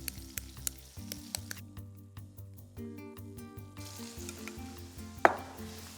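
Appetizers frying in a sauté pan, a quiet continuous sizzle with light clicks and crackles, plus one sharper clack near the end, all close up and without speech.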